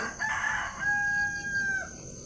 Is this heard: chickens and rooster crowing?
yes